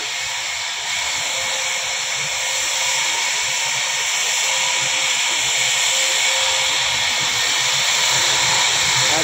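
A woodworking machine cuts timber in a furniture workshop in Bogura, giving a loud, steady hiss and whine that runs unbroken and fairly close, with no talk over it.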